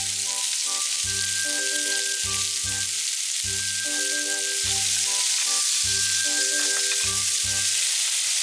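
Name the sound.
shrimp stir-frying in an oiled frying pan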